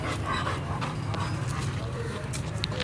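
A large dog pants steadily nearby, rapid even breaths continuing throughout against low outdoor background noise, with no talk.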